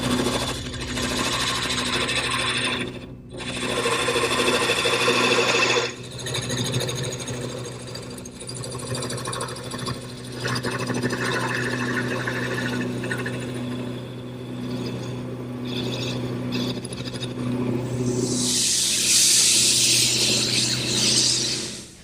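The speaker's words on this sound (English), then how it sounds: "Now I'll return to the gouge to taper the legs." Wood lathe spinning a high chair leg blank while a gouge tapers it: a continuous loud motor hum with steady cutting noise, brief dips where the tool lifts off, carrying on for about twenty seconds.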